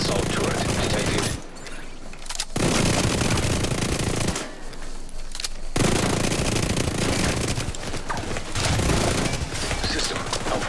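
Assault turret fire in The Division 2 comes in long, loud, dense bursts of rapid automatic shots separated by brief pauses, close and harsh, with voices speaking over it.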